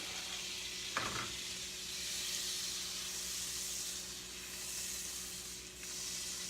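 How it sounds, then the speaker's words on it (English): One stick of butter sizzling and hissing steadily in a hot pan on the stove, a broad continuous fry with a brief clack near the start, no voices. "we're going to put one stick of butter in the pan"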